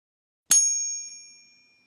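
A genuine coin pinged on a pocket finger makes a single crisp strike that opens into a clear, bell-like high ring, decaying smoothly over more than a second, alone and close.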